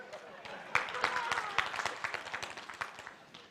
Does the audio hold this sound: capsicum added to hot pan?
no